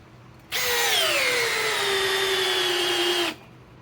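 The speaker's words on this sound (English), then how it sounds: "let's go back to Milwaukee and run another 5-inch ledger lock" A Milwaukee M12 driver sinks a 5-inch LedgerLok screw into wood, one loud, steady motor whine lasting about three seconds, dipping slightly in pitch as the screw bites, then stopping abruptly.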